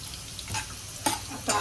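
Garam masala and cumin sizzle in hot oil in a pan, a steady soft frying hiss broken by a few brief louder crackles and stirring scrapes, with no talk.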